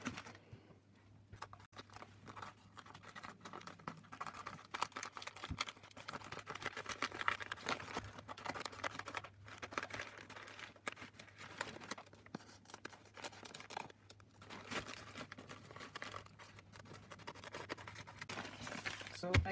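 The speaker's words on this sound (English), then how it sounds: "So I will take my scissors now and cut my shape." Scissors cut out a rug shape from sack fabric (gunia) for a shaggy punch-needle rug, giving a steady stream of close, soft snipping and rustling crunches that run throughout without talk.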